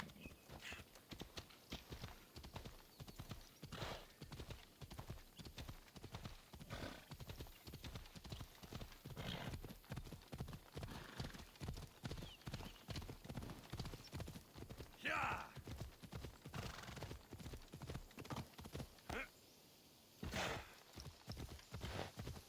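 Horse hooves clip-clop at a steady gallop in Assassin's Creed Odyssey, a rapid even rhythm that runs close and loud throughout, with a brief whinny and game voices talking over the hoofbeats.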